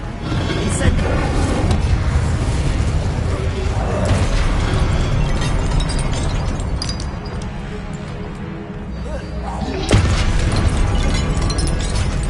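A stream of Incendio fire spells from Hogwarts Legacy makes a dense run of bursts and whooshes over constant game noise, with a sharper blast near the end.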